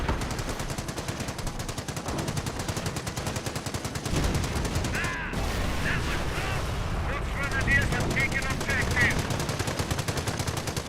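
A .30 cal machine gun firing in a Company of Heroes battle, with long sustained rapid bursts over rumbling battle noise and a brief pause midway, dense and continuous, with a voice talking over it.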